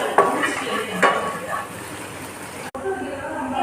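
Food sautés in a pan with soy sauce as a utensil stirs it, clinking and scraping against the metal in a few quick bursts over a soft sizzle. The sound is close, a voice murmurs faintly underneath, and it cuts off abruptly near the end.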